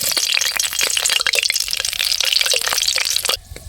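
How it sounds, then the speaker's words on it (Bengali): Whole dried red chillies dropped into hot oil in a kadai for tempering, giving a loud, close burst of crackling and spitting that runs steadily and then cuts off abruptly near the end. "তেল গরম হয়ে গিয়েছে, এবারে গোটা শুকনো লঙ্কা ফোড়ন দিয়ে দিচ্ছি।"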